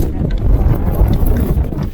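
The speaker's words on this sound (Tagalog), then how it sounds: "Ang hangin masyado." Strong wind buffeting a microphone on a small boat out on the water at night during a fishing trip, a constant loud low rumbling roar with gusty swells, no clear voices over it.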